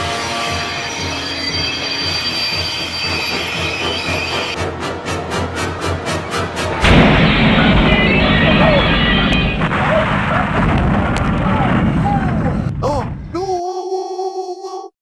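Toy train crash with Gordon the Big Engine: a continuous clattering, ratcheting mechanical rumble, then a loud crash and jumble of noise. Voices and music run through it before it cuts off abruptly.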